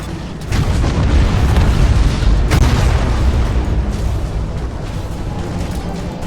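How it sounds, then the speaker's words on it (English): Heavy Drool Cannon bombardment from a Tyranid bio-ship in a Warhammer 40,000 space battle game: a loud, continuous rumbling barrage of booming blasts, with a sharp burst near the start and another mid-way. "Fire the Drool Cannon!"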